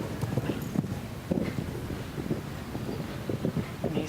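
Hungarian horses' hooves thud on the ground during show jumping in a modern pentathlon team relay riding event, a steady clip-clop rhythm of soft beats under wind noise on the microphone.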